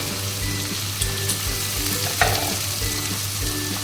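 Cumin paste hits hot oil in a pan while fish is being fried, giving a steady close sizzle with a few scraping stirs throughout, no voices.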